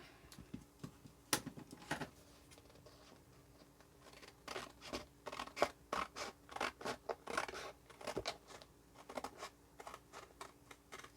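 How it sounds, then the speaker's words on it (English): Scissors cutting out peel-and-stick material close up, with a few separate snips at first, then a run of quick rhythmic crisp cuts with short pauses, and no talking. "So let me cut this out here."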